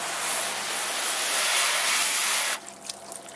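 Hose water spraying onto a car being detailed out in the sunlight, a loud, close, steady hiss lasting a couple of seconds before cutting off into quieter dripping.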